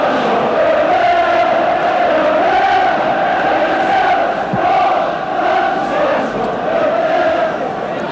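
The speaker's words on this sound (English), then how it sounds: "Ironic cheering there because the flag stayed down the last time he broke through" A large football crowd at a Celtic v Liverpool match roars in ironic cheering, a dense, sustained wash of voices that rises and falls slightly over several seconds, with a commentator talking over it.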